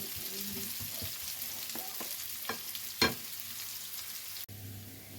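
Chopped onions sauté in a pan for a prawn and semolina dinner, giving a steady, close sizzle throughout with a few soft stirring clicks and scrapes.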